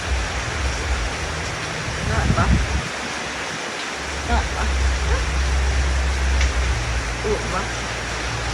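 Heavy, steady rain pours as broadband wash throughout, loud and close, with people talking over it.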